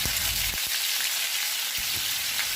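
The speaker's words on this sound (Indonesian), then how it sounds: "Selanjutnya kita akan menggoreng tahunya." Tofu frying in hot oil for an everyday home-cooked dish, a dense steady sizzle and crackle with a few sharper pops, close and continuous with no talking.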